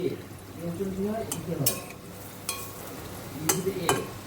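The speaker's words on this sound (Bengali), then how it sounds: "এইদিকে আমি বড়া ভাজছি বাঁধাকপির" Cabbage fritters bound with gram flour sizzle in hot oil at a steady background hiss, joined by a few sharp utensil clinks and scrapes, with faint voice-like murmurs in between.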